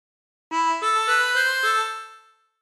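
Harmonica playing the opening phrase of Bella Ciao, a run of five or six connected reedy notes stepping in pitch, clear and close with no voices, the last note fading out.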